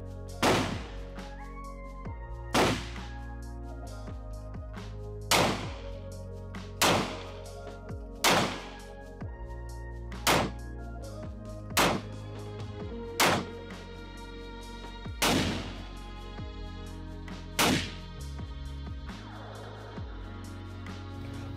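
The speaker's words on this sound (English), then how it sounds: "This clip shows the different sounds that several guns make with different reverb levels." A series of gunshot sound effects from several different guns, about a dozen sharp reports spaced a second or two apart, each trailing off with a different amount of reverb over a low musical bed.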